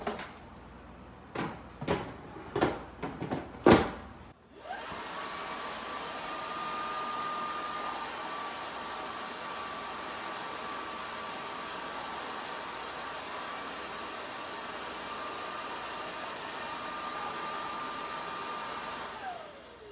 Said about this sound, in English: Now you can put it on the base and it's gonna empty it out for you.